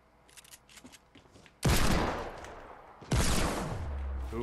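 Gunfire in the Fortnite video game: two loud, close bursts of shots, each ringing out for over a second, preceded by faint clicking game sounds.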